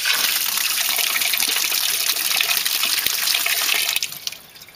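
Water pours loudly through the drain hole of a homemade bucket air pump, a steady rushing gush close up that trails off to a trickle in the final second.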